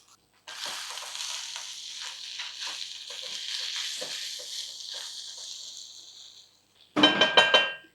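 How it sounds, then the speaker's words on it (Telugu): Carrot pieces dropped into a pan and frying, a steady close hiss of sizzling oil lasting several seconds, then ending with a few sharp metallic clinks of utensils against the pan. "జస్ట్ లైట్గా ఫ్రై అయ్యాక ఆ 2 క్యారెట్ ముక్కల్ని కూడా వేసేస్తున్నాను."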